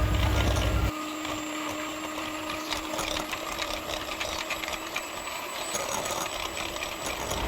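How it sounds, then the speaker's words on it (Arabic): Electric hand mixer whipping sugar and whipped cream for a Turkish princess cotton cake, a continuous mechanical whir with rattling beaters against the bowl, fairly close and steady after a brief louder start. "هنستمر في ضرب الخليط بالمضرب الكهربائي كويس جدا لحد ما نوصل للقوام الكريمي والناعم"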